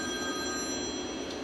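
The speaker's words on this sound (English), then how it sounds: "Oh, my phone's ringing." A phone rings inside a truck cab, a steady electronic tone sitting over the constant low rumble of the moving vehicle, with no talking.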